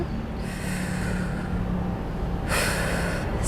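Two forceful, breathy exhalations come during an abdominal workout for diastasis recti, one sustained early and a sharper one near the end, close and alone.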